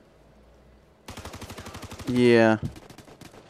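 Rapid automatic gunfire in Ghost Recon Future Soldier multiplayer, a steady rattling burst of close shots with a louder sustained blast midway, then a few more shots, and a brief spoken word over it.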